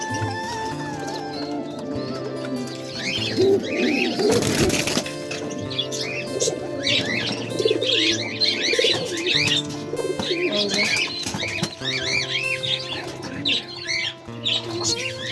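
A pair of pigeons with their chick, one with a broken beak, coo continuously and chirp nearby, with a sudden burst of flapping wings partway through over a busy, layered background of bird calls.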